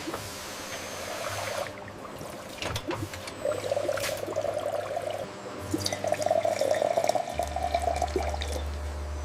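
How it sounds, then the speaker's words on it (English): Avocado oil pours from a bottling line filler into bottles, a steady liquid trickle and gurgle with drips and clinks, set against a factory hum that deepens toward the end. "Look at that pour, smooth and perfect."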